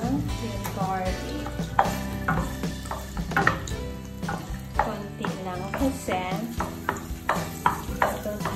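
Garlic sautés in a pan for a spaghetti sauce, with sizzling and stirring clatter repeating in short bursts over a tonal background, moderately loud throughout.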